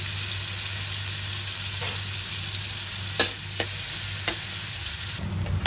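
Garlic sautéing in hot oil in a pan, a continuous dense sizzle with a few scattered scrapes and taps of a stirring utensil, close and fairly loud, no talk.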